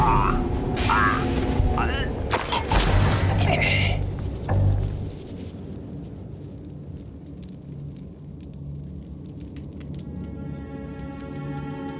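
The Incendio fire spell in Hogwarts Legacy, a crackling whoosh of flame with sharp bursts in the first few seconds, fading into quieter ambience as a voice speaks over the start.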